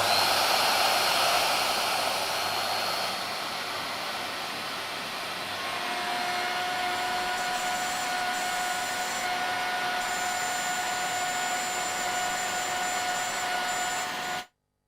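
Router cutting sliding dovetails in wood, a continuous loud high-pitched whine with a steady tone, running close until it stops sharply at the end.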